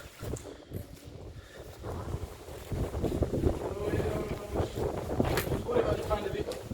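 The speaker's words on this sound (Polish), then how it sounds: "wszystko wieje, to przeciąg" Wind draft gusting through an abandoned former military barracks building, a steady rushing roar that swells and fades, with people talking quietly nearby.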